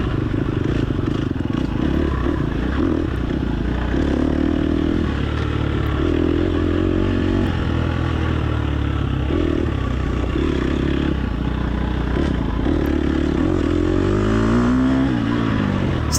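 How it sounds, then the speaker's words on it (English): Motorbike engine revving steadily in the racing game TORCS, a continuous loud whine rising and falling through gear changes for the whole stretch, close and unbroken with no talk over it. "hearing that bike rev like that"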